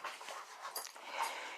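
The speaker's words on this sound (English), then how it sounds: "So that's my dog." A pet dog whimpers and pants close by in a steady, breathy stream of airy gasps broken by a few higher whines over about a second and a half.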